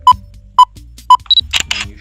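Camera shutter firing for stop-motion frames on a timer: three short beeps at even spacing, then a higher double beep and two crisp mechanical shutter clicks, close and clear.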